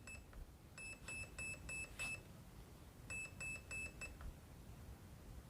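A Perun ETU++ electronic trigger unit installed in a G&G ARP9 airsoft gun gives off two rapid sets of high, thin electronic beeps, about five in each set, close and clear over faint background hiss.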